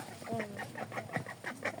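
A duck being handled outdoors in a village gives repeated short quacking calls in a rhythmic series, close by and fairly loud.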